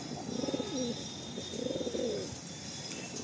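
A loft pigeon coos nearby in two rolling, throaty bursts separated by a brief pause, clear against a faint background hum.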